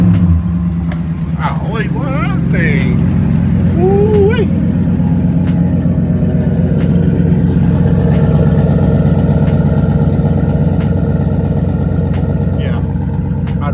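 A GMC Denali truck engine on a cold start runs at a loud, steady idle close by throughout, while someone talks over it.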